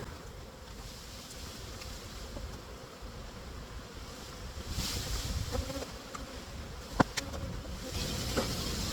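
Honeybees buzz steadily around an open hive during a fall honey harvest as a super is removed, a continuous close swarm hum with a few sharp knocks and bumps toward the end.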